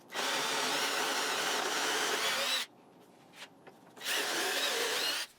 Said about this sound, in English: I could just use a jig to drill out the locations for some concealed hinges